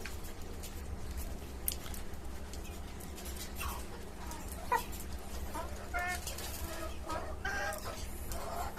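Chickens on a rooftop hobby farm give a few faint, scattered clucks over a steady low background hum, distant and quiet, with no other prominent sounds.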